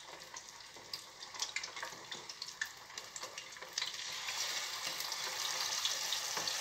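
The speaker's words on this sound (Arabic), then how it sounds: "نديرها مباشره في الزيت" Stuffed eggplant mixture frying in plenty of hot oil, a steady close crackling sizzle with small popping bursts that grows denser and louder toward the end, with no voices.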